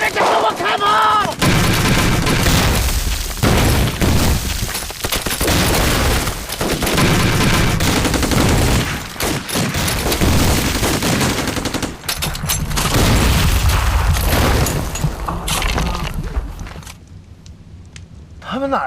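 Dense gunfire and artillery in a staged war drama battle by a river, loud continuous volleys of shots and booms mixed with shouting voices, easing toward the end.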